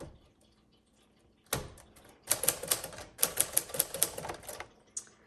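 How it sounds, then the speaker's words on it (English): Keys of a 1951 Smith Corona Sterling manual typewriter clack in quick bursts after a quiet start, crisp and close, with a brief pause between runs and a final isolated strike. "I'm trying to type with a bar right in front of me"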